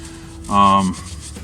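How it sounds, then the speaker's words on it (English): Light scrubbing of leftover window tint glue on glass gives one short rubbing stroke of about half a second, close and moderately loud, against a quiet background. "she's doing light scrubbing, which might not be as effective as doing hard scrubbing"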